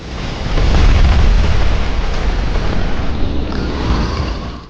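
Trap shells firing in an animated battle scene, a sustained heavy booming roar of blasts that swells loud near the start and rumbles on without pause.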